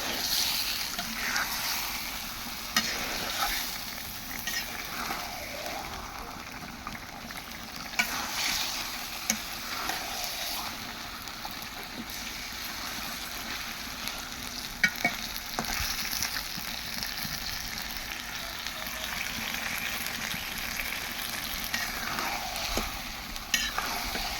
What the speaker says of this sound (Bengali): তো এটা হলো একদম ভালো করে ভেজে নিচ্ছি